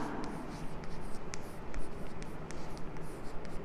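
Pen writing on paper in a primary-school English lesson, close scratchy strokes with small ticks as letters form, steady and moderately loud, no talking.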